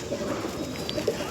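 Pigeons at a loft of tournament flying birds, including Andra, Kalanka and Phulshira breeds, coo softly and continuously at close range, with low murmuring calls and a few brighter chirps over a busy background.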